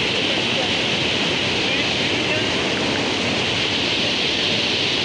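Napne waterfall in the Konkan region of Maharashtra pours down in a steady, dense rushing roar that stays loud and unbroken throughout.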